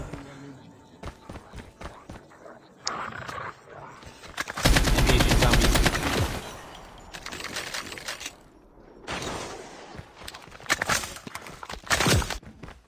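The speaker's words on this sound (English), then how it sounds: "Using a grenade shot now." Grenade launcher shot and rapid gunfire in a video game firefight, with a dense loud burst of explosion and shooting in the middle and scattered sharp shots before and after, mixed with game sounds.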